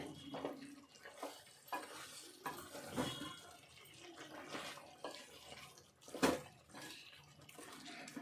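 Chicken gravy is stirred in a pan, making faint, intermittent scraping and sloshing strokes with a few sharper clinks, all fairly quiet and up close.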